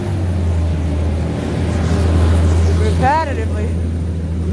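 A loud, modified car engine drones close by in traffic, a heavy low rumble that swells and then recedes, while someone talks over it.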